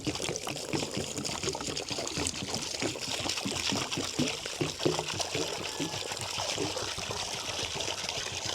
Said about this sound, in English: We're gonna give them some fresh water.